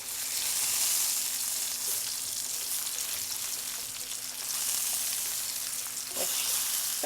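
Herb-seasoned pork chops fry in a pan with a steady, bright sizzle that swells and eases slightly, close and alone with no voices, plus a couple of faint clicks near the end.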